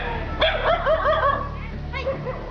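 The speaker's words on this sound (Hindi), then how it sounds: "रास्ते में छाजूसर गांव में कुत्ता उन्हें देखकर भौंकने लगा" A dog in a village barks and yips in a short run of sharp calls, fairly close, over a steady background hum with a faint voice.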